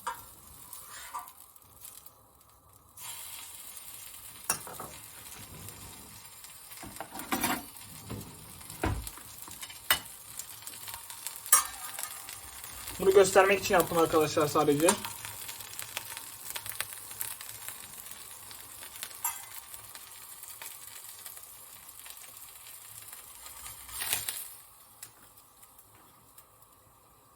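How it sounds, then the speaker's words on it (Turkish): Kashar cheese sizzles and crackles steadily in a hot pan, with occasional utensil clinks and a brief spoken remark over the frying. "kaşarımı biraz kızartacağım"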